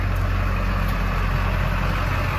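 A 2004 Chevrolet Duramax 2500 pickup truck engine idles with a steady, heavy, low rumble that stays even throughout. The sound is close and constant, with no talking.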